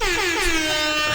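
A single sustained air horn blast, loud and harsh with a slightly falling pitch, lasting just over a second with no voices.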